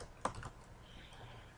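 A few quiet keystrokes on a computer keyboard entering a number, faint clicks close by over low background hum.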